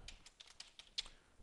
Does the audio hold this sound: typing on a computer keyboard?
yes